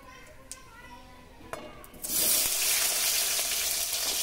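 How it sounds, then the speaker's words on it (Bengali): Chopped pumpkin hits a pan of bay leaf and cumin fried in oil, bursting into a loud steady sizzle after a few quiet clinks, the frying continuing close and even to the end. "ফোড়ন খুব ভালো করে ভেজে নিয়েছি, দিয়ে দিচ্ছি কেটে রাখা সবজি।"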